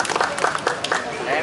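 Audience applause at a closing and prize-giving ceremony for a foot-volleyball tournament in Vinh, a steady burst of clapping from a crowd lasting throughout.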